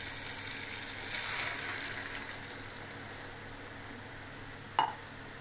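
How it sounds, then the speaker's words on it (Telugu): Water poured into a hot pan of semiya upma gives a steady rushing hiss with a brighter sizzling burst near the start, then settles to a quieter wash. A single clink of utensil on pan comes near the end. "పౌసర్ గ్లాస్ నీళ్ళు పోసుకుందాం"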